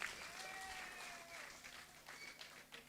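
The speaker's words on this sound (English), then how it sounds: "another round of applause for our political leader, Honorable Emmeline Peer" Applause from the audience at an open session of a women's political convention, a steady wash of clapping held for about three seconds, fairly quiet and distant, with a faint tonal feedback line running through it.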